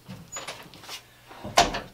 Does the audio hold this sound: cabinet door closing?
yes